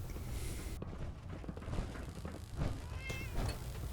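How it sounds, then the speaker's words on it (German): A cat in Fallout 4 gives soft, drawn-out meows over a dense, noisy game ambience with faint shuffling and background rumble; the calls are fairly quiet and partly buried. "Miau. Hallo Katze."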